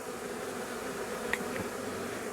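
A honey bee swarm buzzing at the entrance of a new hive, a dense continuous hum of many wings with one brief nearer buzz passing close, steady and moderately loud.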